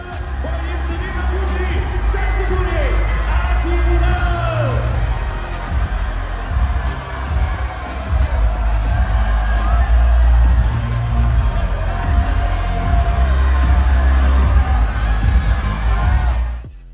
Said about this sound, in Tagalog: ang malakas na hiyawan at pag-welcome nga sa kanya ng mga Chinese fans dito nga sa kanyang tour